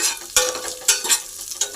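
Whole spices and two chillies hit hot oil and ghee in a pan for paneer matar pulao, giving a steady close sizzle with sharp crackling bursts and stirring scrapes.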